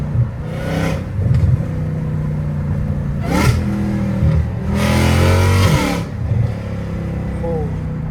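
A catless Dodge Hellcat Redeye roars through repeated loud accelerations, each engine surge rising in pitch over a rumbling idle, heard close from inside with a voice talking over it.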